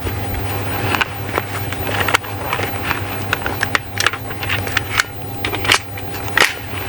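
An S45 air rifle fitted with an extended magazine fires shot after shot, each a sharp snap-crack, roughly ten spaced over several seconds, loud and close with faint handling sounds between.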